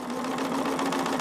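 A sewing machine stitches quilt pieces together, its steady mechanical hum holding a constant pitch with a fast, even rattle of the needle, running continuously and close by.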